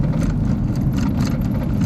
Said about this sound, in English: That's the sound of a loose battery.